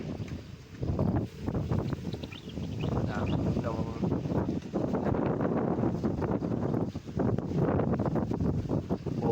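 Strong typhoon wind blows over farm crops in the Philippines, a loud continuous roar with heavy gusts buffeting the microphone, and faint voices in the background.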